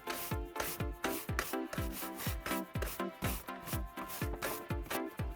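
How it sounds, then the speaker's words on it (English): Stiff brush scrubbing dried mud off the body and wheels of a Landroid robot lawn mower, heard as steady rhythmic back-and-forth strokes, close and fairly quiet, about two strokes per second, with no talking. "You should use the stiff brush to remove any dried mud on the body or wheels."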